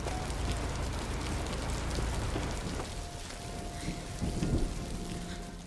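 Heavy rain pours down in a dense, continuous roar with a constant spatter of drops and a low rumble beneath, loud and close throughout, with no voices.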